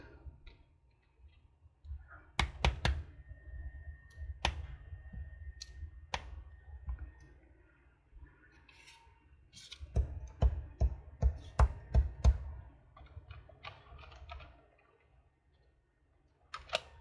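Sharp, close clicks and taps from stamping and cutting small paper images for inchies, scattered in bursts with quiet pauses between.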